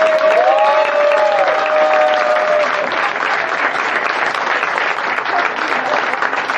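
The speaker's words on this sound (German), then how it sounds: "verabschieden wir den lieben Olli Hoff noch mit einem riesen Applaus" Big applause from a fan-meeting crowd sending off a performer, dense sustained clapping throughout with a brief sung or voiced tone over the start.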